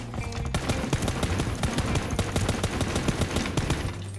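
Gunfire in the battle royale game ROE, a quick run of rapid automatic shots and scattered single cracks, moderately loud and close.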